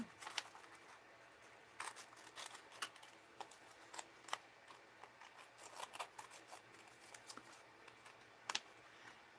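Scissors cut paper for a mixed-media craft, with quiet, close, irregular snips and crisp paper rustles spread through a calm room.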